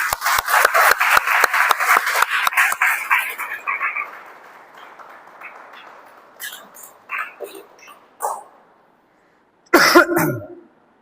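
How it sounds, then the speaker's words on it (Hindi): A church congregation claps loudly together during a worship service, a dense burst of applause that fades over a few seconds, followed by scattered shorter claps and a final brief flurry. "एक जोरदार ताली बजाइए।"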